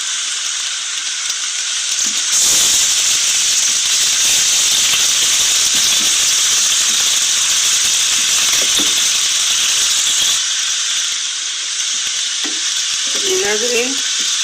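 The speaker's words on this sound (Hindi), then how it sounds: "हमने हल्के से फ्राई कर दी प्याज" Onions sizzle and hiss steadily as they fry in a pan for a chicken and potato dish, with occasional stirring scrapes, loud and close throughout with no talk.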